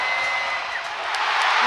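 A women's college basketball arena crowd keeps up a continuous roar, a broad steady wash of many voices with faint whoops rising near the end.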